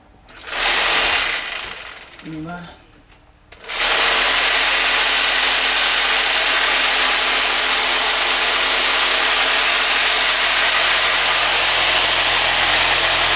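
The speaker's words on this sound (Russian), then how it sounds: "Вот это шумит, вот это камешки," A tumbler motor shakes a motorcycle gas tank full of small stones to strip rust, starting with a couple of short bursts and then settling into a loud, continuous buzzing rattle that runs unbroken to the end.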